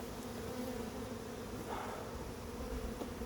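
A dense, steady buzzing of many honey bees around a hive during inspection fills the clip, a continuous close hum with no talking.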